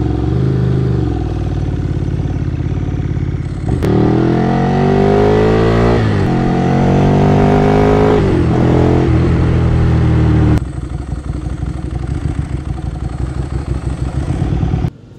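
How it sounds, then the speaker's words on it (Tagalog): A Ducati Monster motorcycle with an open-pipe muffler idles loudly, then revs in a long rising, falling roar for several seconds before settling back to a lumpy, popping idle, close to the listener. "May tunog ho rin yung tambutso natin na medyo bulahaw."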